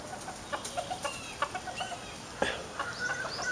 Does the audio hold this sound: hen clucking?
yes